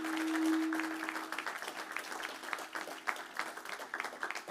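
A church congregation applauds for the Lord during a joyful French-language Sunday morning service, steady hand-clapping from a large group filling the room at close range, with a sustained tone lingering under the first second.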